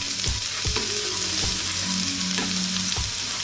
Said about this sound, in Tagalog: Gigisa lang tayo.